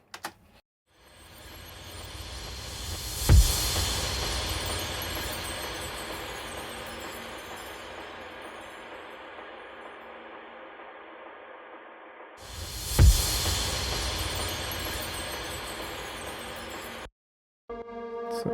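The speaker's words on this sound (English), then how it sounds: "I've used some chimes, reverse cymbals, some splashes, and EDM style impacts, very long style impacts" Long reverse-cymbal swells rising into two big reverberant EDM-style impacts with splashes and chimes, each boom washing out into a slow fading tail before the second hit and an abrupt cut.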